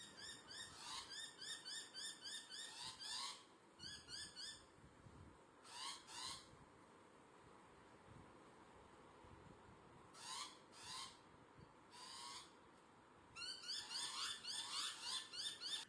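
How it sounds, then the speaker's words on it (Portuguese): An African masked owl gives harsh, breathy hissing bursts in repeated pulses, some long and some short, separated by brief pauses, close and fairly loud against a quiet background. "a coruja mascarada bufa suas penas para fora e assobia, para parecer maior e mais feroz"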